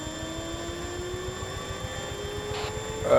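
An aircraft engine spools up during a training session, a steady droning whine rising slowly in pitch with a rhythmic low pulsing underneath and a brief burst of radio-like noise near the end.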